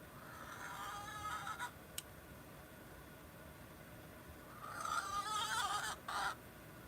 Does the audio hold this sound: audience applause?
no